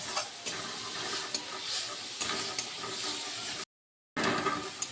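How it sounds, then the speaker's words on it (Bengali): Spice masala with a spoonful of amchur powder fried and stirred in a pan for a bitter gourd dish: steady close sizzling with scraping stir strokes, a brief gap of silence near the end before the frying resumes. "এবার মশলাটা ভালো করে আমি কষিয়ে নেব।"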